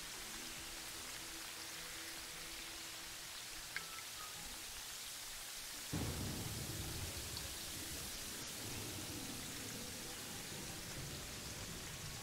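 Steady rain hiss with a soft low rumble in the game Terraria, continuous and fairly loud throughout, thickening into heavier downpour noise about halfway through.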